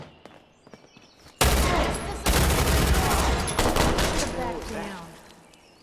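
A .22 SMG fires in Fallout 4 with the Wasteland Reborn gameplay overhaul modpack, sustained loud rapid bursts lasting several seconds after a quieter start, while a voice speaks briefly.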